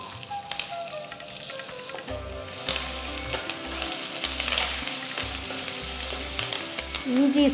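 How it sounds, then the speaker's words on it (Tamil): Finely chopped ginger hits hot oil already holding curry leaves and asafoetida for a South Indian tempering, giving a steady crackling sizzle with scattered spits and pops, close and fairly loud. "அடுத்து ஒரு துண்டு இஞ்சி நல்ல பொடியா நறுக்கினது அதையும் சேர்க்கிறேன்."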